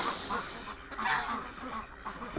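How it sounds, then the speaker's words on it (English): Ducks on a farm quack and honk in a loose, overlapping chorus of several nearby calls in a cold winter setting. "Oh, you crazy ducks."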